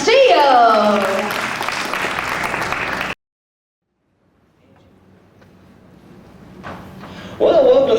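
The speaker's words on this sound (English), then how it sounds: "Another round of applause for our man of steel." Audience applause at a Movie Magic special effects stage show, loud broadband clapping for about three seconds, then near silence, then a low rising murmur before a voice speaks at the end.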